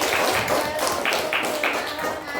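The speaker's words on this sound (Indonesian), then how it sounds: "oke, kita beri tepuk tangan ya" A classroom of students claps in unison for classmates, a few rhythmic bursts of hand claps filling the room at close range, with voices mixed in.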